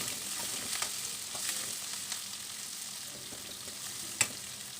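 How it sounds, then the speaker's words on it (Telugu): Green chilli pieces and onions frying in oil for spicy onion idli fry, a steady close sizzle with occasional stirring scrapes and one sharp clink near the end. "ఆనియన్స్ కూడా వేయాలండి వీటిని అన్నిటిని బాగా వేయించుకోవాలండి"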